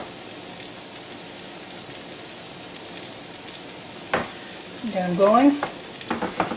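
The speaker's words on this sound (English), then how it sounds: "we'll go and fry them up" Salmon cakes frying in a Copper Chef pan, a steady soft sizzle with a brief clatter as patties go in, while a person speaks briefly.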